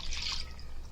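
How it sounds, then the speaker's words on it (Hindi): Water is poured into a pot of Konkani fish curry, a brief hissing splash up close that lasts under a second, with no talking. "अभी पानी डालेंगे और 5 मिनट पकाएंगे।"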